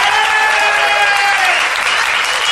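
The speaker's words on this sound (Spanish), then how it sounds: "Vamos a saludar con una ovación inolvidable a Patricio Barton, por favor." An audience gives a loud, sustained ovation of dense clapping for speaker Patricio Barton before his talk on statues in Greece and Rome, steady throughout with faint crowd noise underneath.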